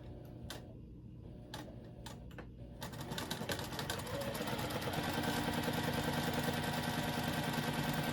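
A sewing machine stitching a purple water bag, starting with a few isolated clicks and taps, then settling into a close, rapid, steady mechanical chatter that runs without pause.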